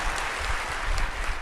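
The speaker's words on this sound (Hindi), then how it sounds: "ताली बजाकर धन्यवाद दूं।" A university audience applauds a spiritual leader on stage, a dense steady patter of many hands clapping throughout, fairly loud and continuous with no talk over it.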